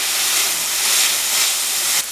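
Broccoli goes into hot oil in a pan and sizzles with a loud, steady hiss that stays even for about two seconds before dropping off slightly at the end.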